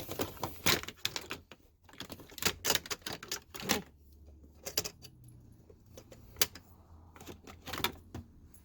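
Plastic trim around the shifter of a 2000-2004 Subaru Legacy, Outback or Baja is pried loose, giving a close run of sharp clicks, snaps and rattles in bursts, with brief quieter pauses between.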